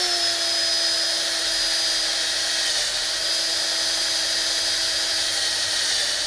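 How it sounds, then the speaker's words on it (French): Power drill boring a hole in a homemade macebell, a loud, steady, high-pitched whine held continuously and close without pauses. "On va percer là."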